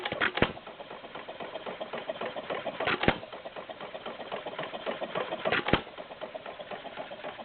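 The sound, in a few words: Stover CT-2 hit and miss engine running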